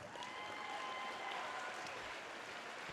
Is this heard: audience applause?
yes